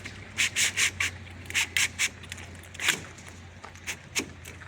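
Channel slid along a Lexan polycarbonate sheet during greenhouse sidewall installation, a series of short, soft scraping rubs in an uneven rhythm against a low background hum.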